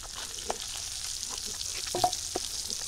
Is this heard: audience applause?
no